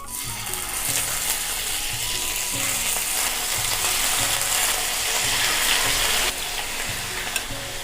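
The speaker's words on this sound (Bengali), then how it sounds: "এবারে আমি একটু ভাজা করে নেব বন্ধুরা" Marinated chicken fries in a spice mixture in a pan, a loud steady sizzle under a regular mechanical ticking pulse, with faint scraping as the pieces are moved.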